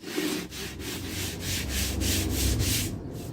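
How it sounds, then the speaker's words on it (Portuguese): Steady back-and-forth rasp of 80-grit sandpaper mounted on a block, leveling the top of a decorative vase; close, even strokes repeated in a regular rhythm with no speech. "Eu vou usar aqui, ó, pra gente tirar todo o grosso, uma lixa 80 e uma base, certo?"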